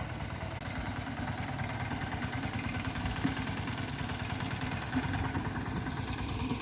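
A water pump engine runs at a steady idle, giving a faint, even, low chugging hum from a little distance with a couple of small clicks.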